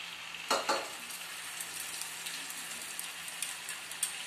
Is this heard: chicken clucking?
no